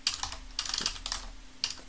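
Someone types code on a computer keyboard, with close, irregular clusters of crisp keystrokes and short pauses between them, and nobody talks.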